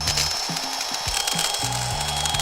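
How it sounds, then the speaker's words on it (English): A power drill bores holes into a whole watermelon, its motor whining in several short bursts that start and stop, loud and close, with no voices. "Drill some holes."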